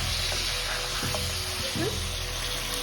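Spices being stirred in a hot frying pan for a chicken dish, a constant loud sizzle with a few faint scraping and tapping touches from the spoon.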